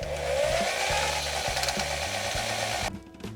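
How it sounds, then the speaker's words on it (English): A power drill spins a drain auger inside a clogged kitchen sink pipe, giving a loud steady whine with rhythmic rattling thumps from the cable, then cutting off near the end. "See how much more we get out by using the drill?"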